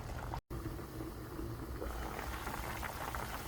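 Small potatoes braise in soy sauce liquid in a pan, a steady close bubbling simmer with a soft continuous hiss and no talking.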